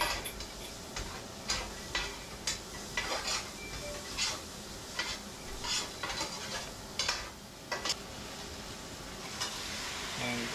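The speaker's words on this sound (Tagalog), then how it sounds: "Ngayon, haluin natin para magpantay yung lasa niya. Mapasama siya sa lasa ng bawang at sibuyas." Spoon stirring pork liver stew with garlic and onion in a pot, rhythmic scraping strokes about every half second over a faint sizzle, close and fairly loud.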